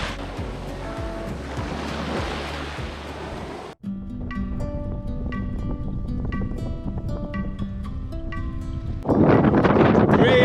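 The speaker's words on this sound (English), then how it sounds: "Really windy today, unbelievable." Strong wind roars and buffets the microphone over crashing surf, with a louder gust sweeping in near the end.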